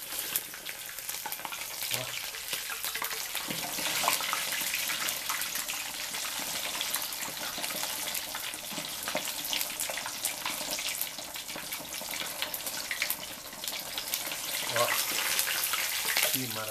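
Rolled pork belly torresmo fries in very hot fat over high heat, giving a loud, steady, dense crackling sizzle with scattered pops throughout.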